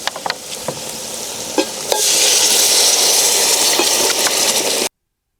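Water is poured into a pan of frying boti (goat tripe) curry and meets a loud, steady sizzle. Scrapes and clinks of the stirring spoon come before it, then the hissing swells and carries on until it cuts off.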